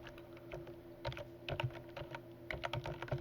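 A computer keyboard clatters with light, irregular keystrokes in short clusters, close and fairly quiet, with no talk over it.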